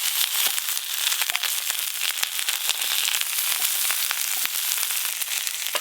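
A large bhetki fish sizzles as it fries in oil in a pan, a continuous fine crackle with frequent sharp pops, fairly close and without talk.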